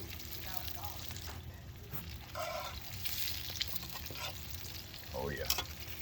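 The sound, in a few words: squid sizzling in wood fired oven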